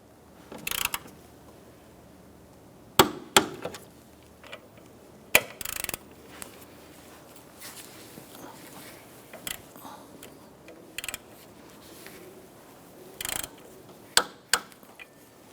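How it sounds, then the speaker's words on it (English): A hand ratchet snugs down the bolts of an engine torque strut mount on a 1992–1996 Toyota Camry 2.2L four-cylinder, giving scattered short bursts of clicking and metallic clacks separated by quiet pauses. "let's go ahead and snug them down with our ratchet"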